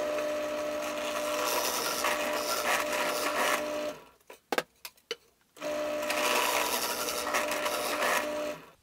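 Power drill boring hinge holes into a wooden leg piece, a steady loud whirring drone broken by a short pause with a few clicks and knocks before drilling resumes, close up with no talk.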